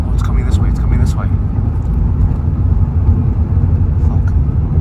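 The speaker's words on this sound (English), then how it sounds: "I just had an F-16 flyby" An F-16 fighter jet flies past over New Mexico with a loud, steady roar that fills the whole stretch without fading. Faint voices sit under the noise.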